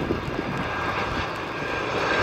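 A Virgin airliner lands at an Australian airport with a continuous, loud engine roar that holds steady throughout and no talk over it.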